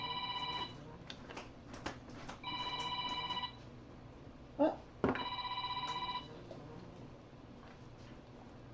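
A telephone rings in bursts of electronic trills with pauses between them, loud and close indoors, while a person briefly exclaims and something thumps nearby.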